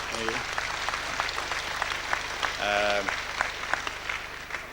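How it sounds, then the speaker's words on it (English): Applause from guests at a football club's anniversary ball, a steady crowd clapping under a low musical hum, with brief tonal chimes and a few voices cutting through. "Deserves a round of applause"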